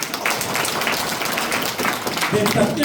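A crowd at an outdoor rally about Gadeokdo airport claps steadily for a candidate, the dense applause running under someone speaking into a microphone.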